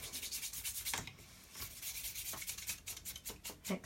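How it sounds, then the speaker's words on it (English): Excess embossing powder rubbed off a handmade watercolour card, a soft, steady brushing and scuffing texture close by, quiet, with no talk. "just rub that bit off as well"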